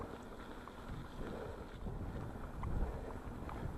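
Steady gusting wind buffeting the microphone, a low continuous rumble that swells louder near the end.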